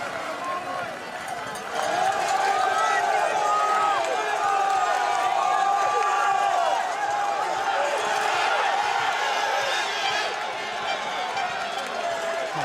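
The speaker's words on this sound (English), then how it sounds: "The sound of the crowd ringing in their ears as Michael Vanthourenhout goes on another" Spectators line the course at a UCI Cyclo-cross World Cup men's race in Namur, their sustained roar and cheering swelling and holding as riders pass, with a commentator talking over it.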